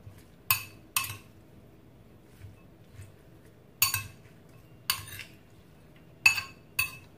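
Utensils stirring a cucumber jellyfish salad with chili, coriander and scallion in a bowl, giving sharp clinks and scrapes at irregular intervals over a quiet background.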